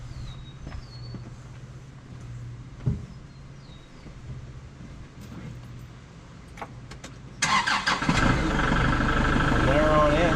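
A Kubota tractor's diesel engine cranks and catches, then settles into a loud, steady rumble after a quiet outdoor stretch.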